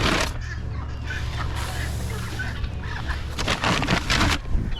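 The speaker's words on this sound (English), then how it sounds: "There goes those ducks." Farm ducks and hens in a pen give off a busy run of clucks, quacks and honks, fairly close and overlapping, with a louder burst of calls near the end and no speech.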